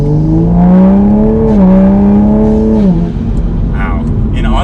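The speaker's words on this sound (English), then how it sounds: "now that we're in automatic drive, just normal mode, we'll do a nice fast acceleration." Tuned Toyota A90 Supra with about 450 wheel horsepower pulling hard in automatic mode, a loud engine note rising in pitch, then a quick upshift drop before it climbs again and eases off.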